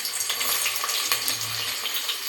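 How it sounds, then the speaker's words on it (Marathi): Chopped onion dropped into about four ladles of hot oil for a Maharashtrian chicken thali, crackling and sizzling steadily and close by throughout, with no talking. "आता कांदा आणि आता कांदा टाकून घेते"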